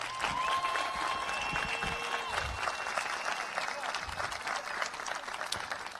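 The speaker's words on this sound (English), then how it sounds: "So let's give them a round of applause." An audience at a graduation ceremony bursts into applause, a dense, loud wash of clapping with crowd noise and a few cheers that carries on steadily for the whole stretch.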